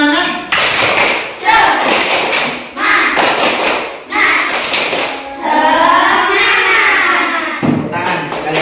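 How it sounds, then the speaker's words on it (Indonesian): A class group performs a rhythmic clapping chant at the start of a school lesson, with sharp claps in repeated patterns and voices chanting loudly along between and over the beats. "Tepuk semangat."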